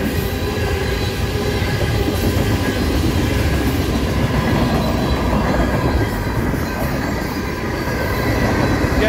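A westbound freight train rolls past on the main line at Gibbon Junction, Nebraska, a loud steady roar of rail cars with wheel clatter and faint squeal, sustained and close throughout.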